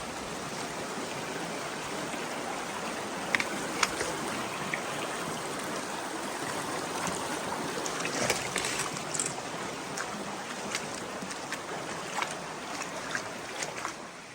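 A river running over slick rocks on a New Zealand trail, a steady gurgling, trickling flow close by at low volume, with scattered small splashes and clicks like footsteps in the water.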